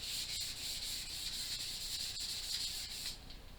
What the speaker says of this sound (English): I'm going to use some 320 grit sandpaper. On the palm sander I was using 220. And we'll just sand it by hand now.